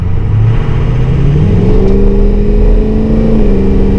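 Engine of a ten-year-old pickup truck while driving uphill behind a slow tractor, a steady close mid-low drone with a rising tone as it pulls, continuous throughout with no talk.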